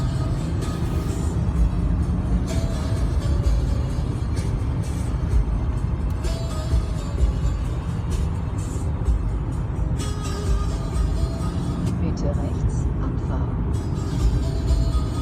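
Steady low engine and road rumble from a BMW 760Li driving on a motorway and moving into the left lane, heard from inside the cabin as a constant drone with faint passing traffic.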